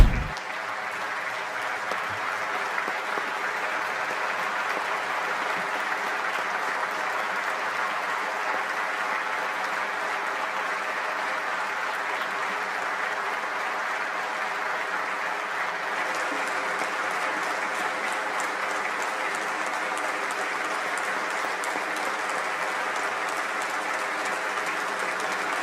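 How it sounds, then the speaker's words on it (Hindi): Sustained applause and a standing ovation fill the Turkish parliament as the Palestinian president is welcomed, a dense, steady roar of clapping hands that continues unbroken for about twenty-five seconds. "तालियां बजाकर स्टैंडिंग ओवेशन देकर स्वागत किया गया था"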